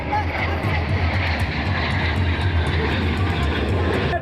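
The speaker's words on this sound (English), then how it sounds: "Now as pilots 1 through 4 to the right complete the diamond roll." Four-jet diamond formation completing a roll at the Miramar Air Show: a loud, steady jet roar fills the whole stretch without letting up.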